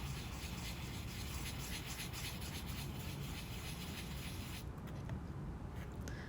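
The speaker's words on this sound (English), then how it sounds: "just kind of rub across in little circles the entire surface of my polymer clay shell" Sandpaper is rubbed in small circles over a polymer clay turtle shell, producing a quiet, steady, close scratchy rasp that runs throughout, faint overall and unaccompanied by voices.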